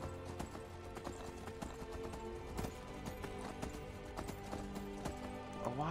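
Horse galloping in the Skyrim video game, a steady rapid clip-clop of hooves carrying on throughout amid game music, with a brief whinny; a voice speaks faintly at times.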